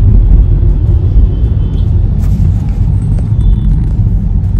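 A car rolls along with a constant low rumble and road noise heard from inside the cabin. The sound stays loud and steady throughout, with a few faint high squeaks above it.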